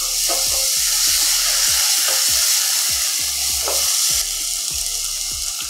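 Coarsely crushed tomato hitting a pan of finely chopped frying onions for spicy veg Maggi, a loud, dense sizzle that runs throughout with rapid regular crackles and clicks, heard up close with no talking.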